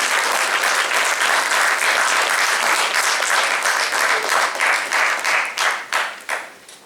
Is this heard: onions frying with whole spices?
no